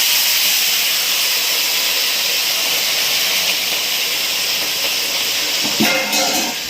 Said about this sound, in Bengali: এবার এই যে চিংড়ি মাছগুলো এর মধ্যে দিয়ে দেওয়া হবে